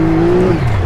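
A drift car on a muddy backyard track spins its tires through the turn, a loud, close engine drone with a steady whining tone throughout the short burst.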